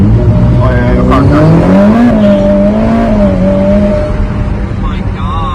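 A Lamborghini supercar revs hard and loud, its engine pitch climbing and holding through a strong acceleration, with some tire noise, while people talk excitedly over it in the car.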